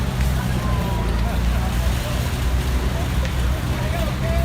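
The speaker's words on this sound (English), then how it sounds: "That's an orchard version of a David Friday tractor coming." Vintage David Bradley orchard-version tractor passing in a summerfest tractor parade, its engine a low, steady rumble heard close by, blended with outdoor noise and crowd murmur.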